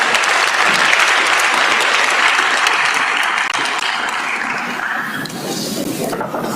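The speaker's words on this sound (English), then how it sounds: "A round of applause for them, ladies and gentlemen." A large audience at the Africa Youth Conference 2024 claps loudly and continuously, a thick wash of applause that eases slightly near the end without any speech on top.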